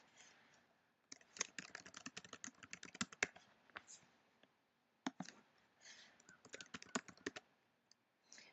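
Quiet bursts of typing on a computer keyboard while entering questions and answers into Google Forms, with uneven clusters of clicky keystrokes separated by short pauses and no talking.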